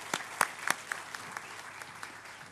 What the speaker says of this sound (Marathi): जोरदार टाळ्या डॉक्टर नेणे यांच्यासाठी.